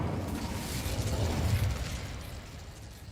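Incendio fire spell cast in the game Hogwarts Legacy, a sustained rumbling whoosh of flame with a deep burst that swells in the middle and then fades, with no talking.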